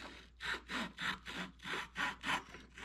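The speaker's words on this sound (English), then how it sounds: "Using my joiner saw, Japanese joiner saw," Japanese joiner saw cutting a small piece of wood, a steady rhythm of about nine close, soft rasping push-pull strokes heard alone.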